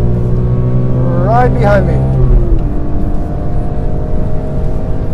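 A BMW E46 M3 accelerates hard with a loud, steady engine drone and a brief rising rev sweep, a voice speaking briefly over the noise.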